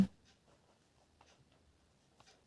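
A pen scratches faintly on paper in a quiet room, a few short soft strokes spaced out, the clearest near the end, heard alone.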